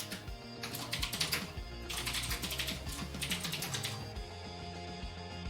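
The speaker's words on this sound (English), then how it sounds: "Just do some clickety clacks in the background real quick." Computer keyboard typing, with rapid clicky keystrokes coming in uneven bursts for several seconds against a quiet background, close and moderately loud.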